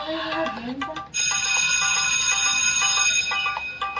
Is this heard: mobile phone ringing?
yes